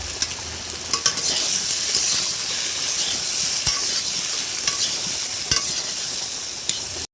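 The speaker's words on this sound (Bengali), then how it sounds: "তারপর আমি আলুগুলো ভাজতে দিয়ে দিলাম।" Potatoes frying in hot oil in a kadai, a steady close sizzle throughout with occasional sharper crackles and faint utensil clinks, no talking.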